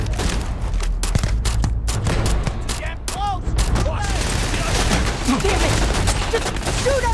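Dense gunfire in the video game Starfield, a rapid sustained barrage of shots and bursts that goes on without a break, loud and close, with shouting voices mixed into the battle.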